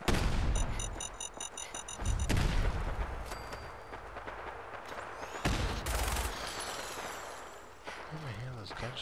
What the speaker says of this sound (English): Where am I hearing those gunshots from?